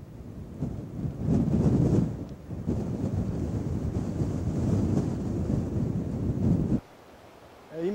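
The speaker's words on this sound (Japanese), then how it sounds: "今かなり強いアゲンストの風が吹いてきたんで" Strong gusting wind buffets the microphone at a river while fly fishing, a loud, continuous low roar that cuts out abruptly near the end before returning.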